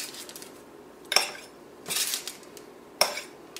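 A small spatula scrapes and taps against paper while lifting frozen yogurt dots, giving three distinct scraping clicks over a soft steady hiss of room noise, close up and with no talking.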